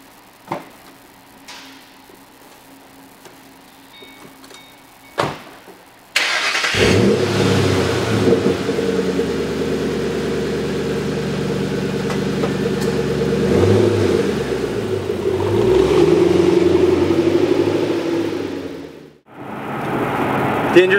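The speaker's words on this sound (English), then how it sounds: "the intake and exhaust just changes the character of the sound of the car altogether" A Ford Mustang GT V8 engine starts with a sharp crank, then holds a loud, deep rumbling roar that rises and surges as it accelerates, ending abruptly.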